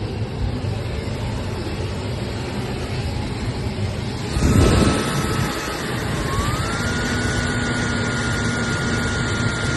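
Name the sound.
air blowing from Nissan NV3500 middle vents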